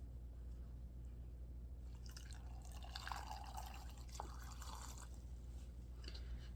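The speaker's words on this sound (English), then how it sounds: "I'm going to go ahead and add some hot water to this" Hot water is poured onto seeds in a container to soak them, giving a soft, close trickling and dripping sound over a steady low hum, with no talking.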